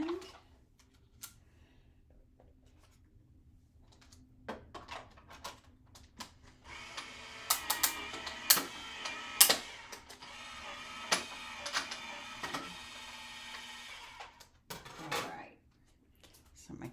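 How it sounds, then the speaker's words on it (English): A die cutting machine runs for several seconds with a steady mechanical whir and rattle. Scattered clicks and taps sit close by before and after the motor sound. "So I'm gonna go off camera here to my die cutting machine."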